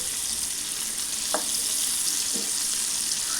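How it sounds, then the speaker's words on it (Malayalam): Fish frying in a pan on a home stove, a steady broadband sizzle throughout with a couple of faint stirring or turning knocks, close and continuous with no voices. "അപ്പം നല്ല സൂപ്പറായിട്ട് മീനൊക്കെ പൊരിഞ്ഞ് കിട്ടിയിട്ടുണ്ട്"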